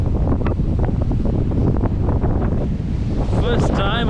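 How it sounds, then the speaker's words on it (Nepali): Strong wind buffeting the microphone at a lookout in the Australian Botanic Garden near Sydney, a loud constant low roar and rumble with brief voices at the end. "यस्तो हावा चलिरहेछ।"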